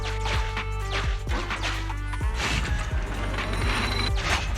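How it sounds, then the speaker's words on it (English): A mechanical valve opens in the video game Zenless Zone Zero, giving dense ratcheting, grinding gear clanks and metallic thuds at a loud, steady level for several seconds. "Sufficient gear coins paid. Authentication successful. Opening valve."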